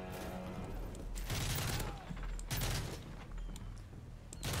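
Bursts of gunfire crackle in an MW3 Spec Ops match, with several rapid volleys and shots spread over a few seconds amid game noise, at fairly low level.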